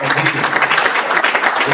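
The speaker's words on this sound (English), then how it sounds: "let's clap for him" An audience at a South East business and investment summit applauding an organizer, dense continuous clapping filling the room, loud and close throughout.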